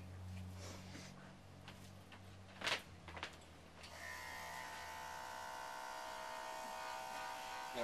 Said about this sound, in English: this is our first experience seeing what's going to happen with the sound of the clippers